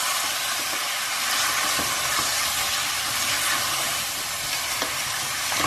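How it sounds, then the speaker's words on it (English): Tomatoes stirred and frying in a mutton curry, a loud, steady sizzle close up with faint spoon scrapes throughout. "So in goes next my tomatoes, and mix that through for a few minutes."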